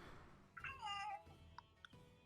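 A voice imitates a cat's meow for a character in a Dungeons & Dragons tabletop game, one drawn-out, wavering meow near the mic, followed by a couple of soft clicks.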